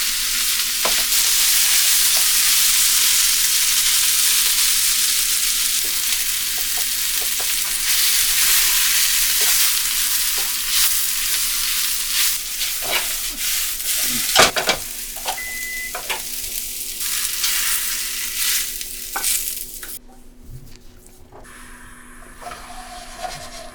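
Aromatic vegetables and garlic sauté over medium heat in a pan for beef stew, a steady loud sizzle with occasional stirring scrapes, dying down abruptly near the end.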